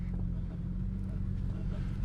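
Audi B5 S4 fitted with an SSAC twin exhaust, heard from inside the car as a steady, low, quiet engine drone that holds throughout without pauses.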